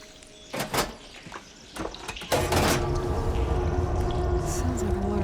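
Mechanical rush and hum of water flow switching over in the game Horizon Forbidden West: a few scattered clanks and bursts, then a sudden loud, steady rushing drone that holds to the end with no talk.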